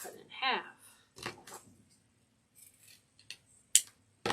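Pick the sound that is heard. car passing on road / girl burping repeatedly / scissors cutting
scissors cutting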